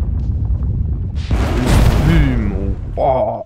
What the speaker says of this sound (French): ça fait une méga explosion au sol